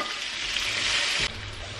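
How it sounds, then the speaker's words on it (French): Vegetables sautéing in a pan in their cooking juices for shrimp stir-fried noodles: a steady, loud, close hiss of frying that drops slightly in level near the end, with no talking. "pendant que les légumes sont en train de revenir"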